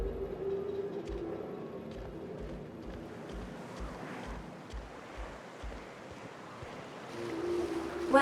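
Steady rushing water from a waterfall and river in the game The Outer Worlds, a continuous broad wash with faint low rumbling underneath, heard alone at moderate, even loudness.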